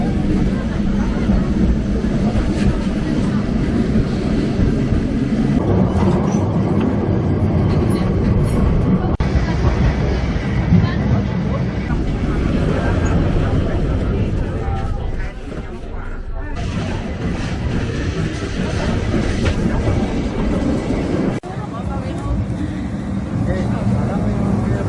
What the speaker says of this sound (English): On the tram.